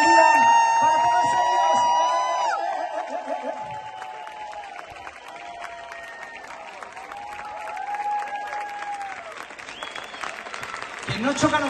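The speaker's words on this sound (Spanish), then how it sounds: "Quiero pediros el aplauso más fuerte del día para todos ellos." At a school parents' association event in Leganés, the crowd gives loud applause and cheers for conservatory students, clapping strongly while musical tones and voices sound over it before it swells again.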